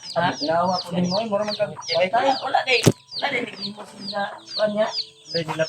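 Chickens cluck repeatedly and close by in a yard, with a sharp knock partway through, while people talk casually over them.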